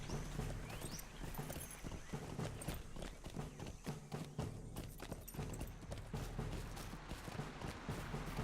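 Horse mount galloping in the Lord of the Rings Online game, with continuous rapid hoofbeats and a brief whinny, steady and fairly loud throughout.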